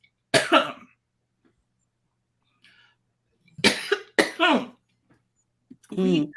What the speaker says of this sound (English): Friend is coughing.